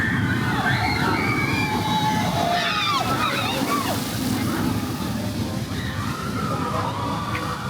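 Water spraying and sloshing beside the Manta roller coaster at SeaWorld Orlando, a steady splashing wash with brief rushing bursts mid-way, loud and close, with voices faintly mixed in.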